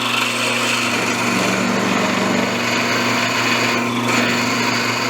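A drill bores through soft cast iron on a lathe compound slide, a steady high-pitched motor whine with a constant tone running throughout, close and loud, with no talk.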